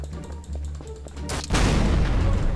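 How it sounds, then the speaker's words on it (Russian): A bomb blast in Garry's Mod erupts as a loud, sudden burst of noise midway through and keeps roaring heavily to the end, following a quieter stretch of low mechanical rumble. "Скромник умер. Бомбу взорвал."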